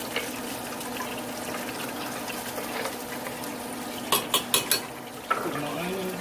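Cookware clatters in a kitchen as onions go into a pot with bacon, a run of four sharp metallic knocks followed by a louder clank over a steady background hiss.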